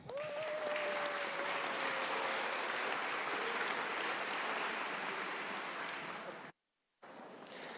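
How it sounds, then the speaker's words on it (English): Applause fills the West Virginia House of Delegates chamber, a dense, even wash of clapping from many members that holds steady for several seconds before cutting off briefly and resuming. "if the House can give them a thunderous applause for their hard work"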